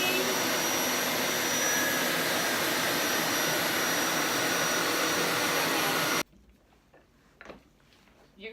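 A Hoover carpet shampooer runs with a loud, steady vacuum-like whine, then shuts off suddenly, leaving faint handling clicks and rustles.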